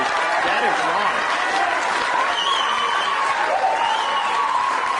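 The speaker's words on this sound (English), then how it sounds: "that applause went on for about another minute after that" Sustained audience applause mixed with some cheering, steady and fairly loud throughout, with voices faintly mixed into the crowd noise.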